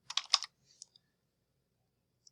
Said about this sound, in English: We'll just type that in.